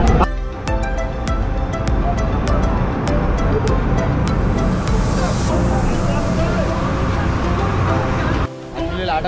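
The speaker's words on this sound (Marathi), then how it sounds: "लाटा खूप जास्त, त्याच्यामुळे बोट पूर्ण अशी जंप होते" High sea waves batter a boat crossing to the Vivekananda Rock Memorial at Kanyakumari, making it jump. A loud, constant roar of water and engine fills the clip with a background murmur of passengers and a brief dip near the end.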